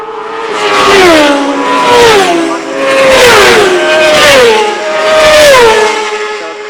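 Racing motorcycles at the Castletown post-TT road races sweep past in three loud, close waves, each engine note climbing through the gears and then dropping away as the bikes go by.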